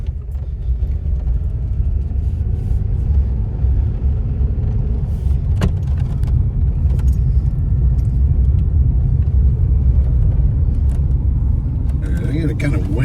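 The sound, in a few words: car driving and accelerating around a corner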